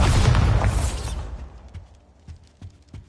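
Bombarda explosion spell in Hogwarts Legacy, a loud booming blast with crackling debris that fades out over a second or two, followed by a few faint scattered knocks.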